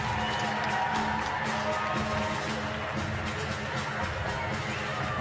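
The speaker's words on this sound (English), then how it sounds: "Nice crowd in to welcome the players and watch the matches." A crowd at an Olympic curling stadium in Cortina cheers and claps steadily as wheelchair curling players arrive for the mixed doubles final, a dense continuous roar of applause with a commentator's voice over it.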